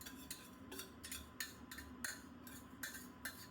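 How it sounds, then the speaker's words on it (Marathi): Metal utensils scrape and clink against a pan in a steady rhythm of faint strokes while burnt kheer is transferred into a new pan, with no talking. "तर मी हे सगळं ह्या नवीन पॅन मध्ये शिफ्ट करते"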